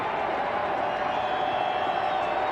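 Steady roar of a large Mile High Stadium crowd at an American football game in Denver, a continuous dense wash of voices and cheering without pauses.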